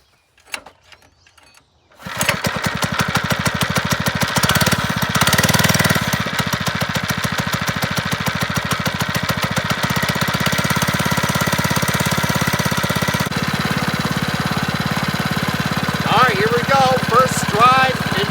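A homemade lowrider go-kart's small engine cranks after a short quiet stretch, catches, and settles into a loud, steady, rapid chugging run that carries on to the end, with faint bits of voice underneath.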